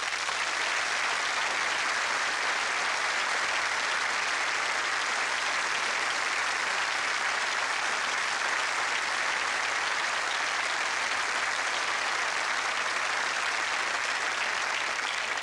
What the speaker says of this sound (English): let's applaud these and many others